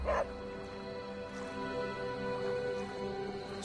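A video game dog yips, whimpers and gives short bow-wow barks close up in Marvel Midnight Suns, a brief sharp yelp at the start, then thin whining over a steady background music bed.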